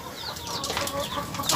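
Pelung chickens in a farm coop give close, rough clucks and calls that run continuously over a busy background.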